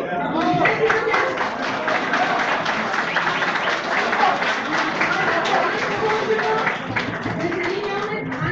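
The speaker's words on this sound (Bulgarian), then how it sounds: "Аплодисменти за тях." Audience applause greets team number five being introduced at a 2016 IT League tournament opening: sustained, dense clapping from many people, fairly loud and even throughout, with voices speaking over it.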